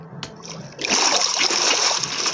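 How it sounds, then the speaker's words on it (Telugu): Water splashes in the Minecraft video game, a quiet moment and a soft tap, then a sudden sustained splashing that runs to the end. "వాటర్ తీసుకున్నాం ఇప్పుడు."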